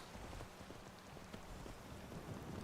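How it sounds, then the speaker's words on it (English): Steady rain falling in the Skyrim video game during a winter scene, a faint, even hiss of drops with no voices. "we're getting loads and loads of rain because it's winter."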